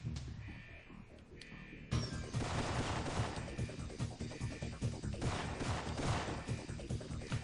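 Gunfire rattles through a shootout in a video game, a dense run of rapid shots and crashes that swells after a quieter opening, with no talk over it.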